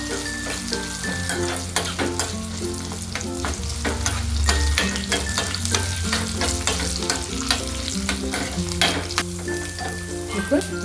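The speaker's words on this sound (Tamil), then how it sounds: "அதோட கூட கொஞ்சம் முந்திரிங்க இதெல்லாம் கொஞ்சம் நல்லா கொஞ்சம் ஃப்ரை பண்ணி போட்டுக்கலாங்க" Cashews sizzling in hot oil in a pan as the tempering for venpongal is fried, a steady close crackle with occasional stirring scrapes, continuous throughout with no talking.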